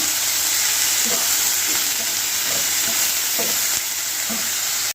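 Palak spinach sizzles steadily in a hot pan, a continuous frying hiss with soft scraping strokes from stirring repeating every half second or so.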